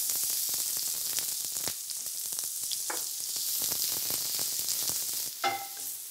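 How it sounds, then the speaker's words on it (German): Finely chopped onions sizzle in olive oil in a hot pan, giving a bright, continuous hiss with occasional stirring scrapes and louder spits. "fein geschnittenen Zwiebeln rein."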